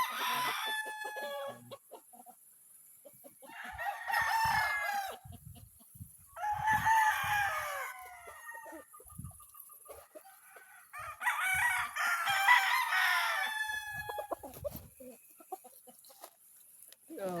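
Roosters crow repeatedly in long drawn calls while hens cluck and chatter around them on a farm, fairly close, with a voice speaking briefly between.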